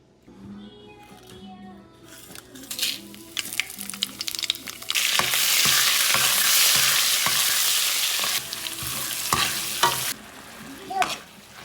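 Quiet clinks and scrapes give way to a sudden loud sizzle as spices hit hot oil for a dal tempering, hissing strongly for several seconds before settling with more stirring.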